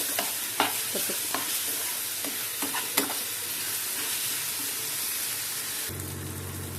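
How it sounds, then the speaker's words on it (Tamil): Madurai-style egg kothu with chopped masala sautéing in a hot pan: a continuous sizzle of frying, broken by sharp clanks and scrapes of a spatula stirring, close up and without talk. "எல்லாம் சேர்ந்து அந்த மசாலாவோட வதங்கணும்."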